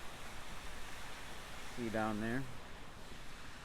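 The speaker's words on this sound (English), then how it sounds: "Waterfall cascades down to the river below." A fountain waterfall in a small Rotary Club park in Bay City, Michigan, cascades down to the river below as a steady, even rush of water, while someone speaks briefly over it.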